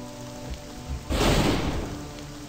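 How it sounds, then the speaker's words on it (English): Sudden heavy rainstorm from the video game Last Dream, a burst of dense rain noise that swells in abruptly partway through and holds steady, loud and close, with no voices. "Looks like a sudden storm has arisen."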